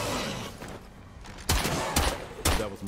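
Gunshots in State of Decay 2 ring out in a few sharp, loud, closely spaced bursts over a continuous dense background of game noise.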